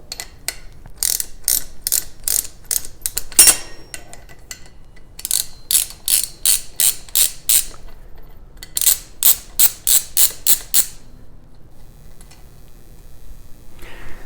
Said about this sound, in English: So let's get this bolt out. Sometimes they get tight, we'll see.